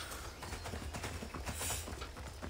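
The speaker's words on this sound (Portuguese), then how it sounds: "Agora passam uns soldados a cavalo pela estrada." Horse hooves clop in a quick rhythm as mounted soldiers ride along a road in Assassin's Creed Odyssey, close and steady over the game's ambient noise.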